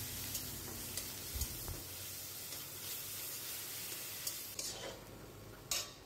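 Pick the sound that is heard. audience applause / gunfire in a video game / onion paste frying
onion paste frying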